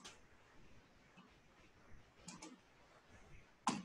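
Keys on a computer keyboard are tapped to type a command into a Windows command prompt, a few faint scattered clicks with a sharper tap at the end, quiet room tone between.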